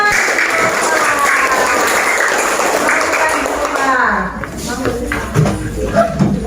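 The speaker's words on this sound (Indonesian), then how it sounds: "berikan tepuk tangan untuk teman kita" Students in a classroom clap for a classmate in a short, fairly loud burst of applause with children's voices mixed in. It fades into shuffling and talk.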